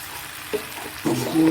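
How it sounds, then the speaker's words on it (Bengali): Water splashes into a pan of frying bhujia potato curry, setting off a sudden sizzle that swells and keeps hissing over the last half-second after a quieter simmer. "কষানো হয়ে গেল এবার এতে আমি জল দিয়ে দেবো"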